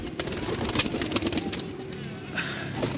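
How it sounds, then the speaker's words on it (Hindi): Pigeons coo softly amid a busy, noisy background, with scattered bird calls and rustling throughout. "ये जी हमारे कबूतर"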